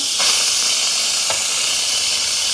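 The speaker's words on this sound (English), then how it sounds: "What we want to do is, all this pressure is got to get out of this pot for this to be safe to come off." An Instant Pot's quick pressure release gives a loud, steady steam hiss with a couple of brief surges, close and constant for the whole stretch, with no voices over it.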